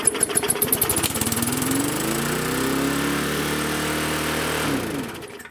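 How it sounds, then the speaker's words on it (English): A lawnmower engine runs at excessively high revs, starting with a sputtering rhythmic chug that climbs into a steady, loud high-pitched whine before winding down at the end. "I've got a lawnmower here that's revving excessively high."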